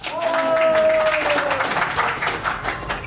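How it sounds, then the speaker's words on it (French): Live podcast audience at a Lyon science-fiction festival applauding, a dense burst of clapping and cheering voices that swells early and then thins out over a few seconds. "Là, vous pouvez applaudir."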